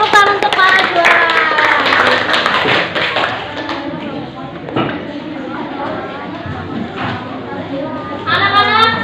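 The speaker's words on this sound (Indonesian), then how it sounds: "Oke, tepuk tangan untuk para juara." Classroom applause for competition winners: children clap in a dense, lively burst with excited young voices mixed in, easing off midway before a fresh round of clapping.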